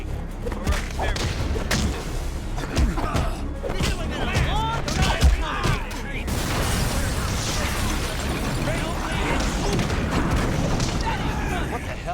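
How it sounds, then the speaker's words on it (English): Explosions and crackling blasts in a prison shower room in the Watchmen: The End Is Nigh video game, a dense string of booming hits and sharp pops that settles into a continuous rumbling roar. "That explosion came from the shower room."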